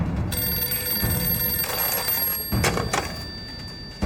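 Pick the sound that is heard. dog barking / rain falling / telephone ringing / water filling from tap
telephone ringing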